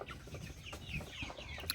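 Young roosters cluck softly and chatter at close range, with a few short higher calls over a low, busy barnyard murmur.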